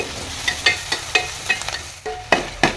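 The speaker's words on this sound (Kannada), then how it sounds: "ಕೆಂಪಾಗೋ ತನಕ ಫ್ರೈ ಮಾಡಬೇಕು ಆಮೇಲೆ ಶುಂಠಿ ಬೆಳ್ಳುಳ್ಳಿ ಆ್ಯಡ್ ಮಾಡುವ" Ginger, garlic and salt frying in a pan, with a soft sizzle beneath about eight sharp, evenly spaced spoon taps and scrapes against the pan, close and clear.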